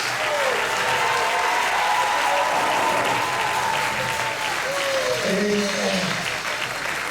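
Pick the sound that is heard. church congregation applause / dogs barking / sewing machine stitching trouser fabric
church congregation applause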